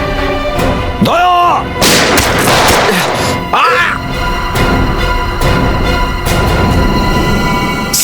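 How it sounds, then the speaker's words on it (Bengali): Gunshots ring out in a CID TV drama scene, with several loud, sharp bangs scattered across the clip amid a tense, busy soundtrack and brief shouts. "সিআইডি অফিসারকে গুলি করে দিলি?"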